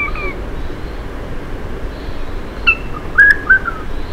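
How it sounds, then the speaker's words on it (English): Song of a male regent honeyeater from the Northern Tablelands: a few brief whistled notes, a short call near the middle and a quick cluster toward the end, fairly faint over steady background noise. "And here is a song of a male from the Northern Tablelands."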